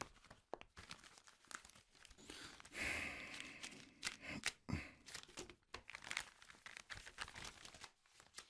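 An envelope is handled and torn open, its paper crinkling and rustling in irregular close bursts, quiet overall, with a breathy sigh amid the rustle.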